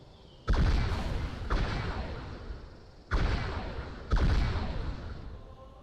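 Seraph projectiles exploding in a Halo 3 mod, fired from a space Phantom vehicle: four sharp, heavy blasts, the first two close together and the last two a second apart, each followed by a rumbling tail.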